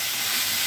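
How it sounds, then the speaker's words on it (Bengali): Potatoes and cauliflower fry in a pan, a steady, even hiss of sizzling oil that holds at one level throughout, close and fairly loud with no talking. "আলু কপি ভাজা হচ্ছে"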